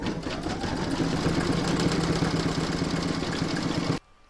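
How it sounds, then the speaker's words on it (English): An in-the-hoop embroidery machine runs a fast, steady satin stitch around the edge of a vintage witch boot facing, a dense continuous mechanical whir that cuts off abruptly near the end. "You're now going to do the satin stitching around the edge of the facing"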